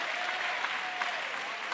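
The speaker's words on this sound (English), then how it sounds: "Clap your hands and it's praise the Lord." A church congregation applauds during a Sunday morning worship service, a steady dense wash of many hands clapping together, fairly faint and distant, with no voices rising above it.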